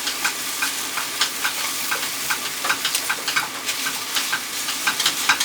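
Eggs fry in stainless steel and non-stick pans, giving a steady, close sizzle with a busy crackle of small pops and spatters running throughout, with no voices.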